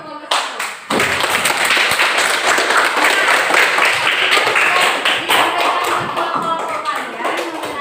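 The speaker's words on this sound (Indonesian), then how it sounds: "Berikan aplaus untuk kelompok 1" A classroom group in a biology microteaching session gets applause, a dense burst of many hands clapping close by that continues steadily for several seconds, with some voices mixed in.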